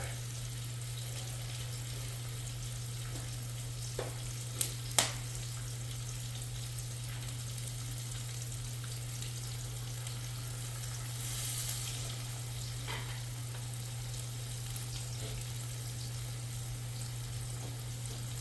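Three pork chops fry in a pan, making a steady low sizzle beneath a constant hum, broken by a couple of sharp clacks from handling the pan.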